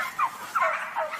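Turkeys in a barn on an industrial organic farm gobble in three quick, rattling bursts, fairly close, with no talk.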